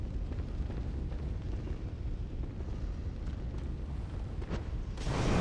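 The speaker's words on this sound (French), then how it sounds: "Cocktail Molotov." A Molotov cocktail bursting in Bloodborne's Old Yharnam: a low rumbling roar of fire with sharp crackles, ending in a loud whooshing flare-up.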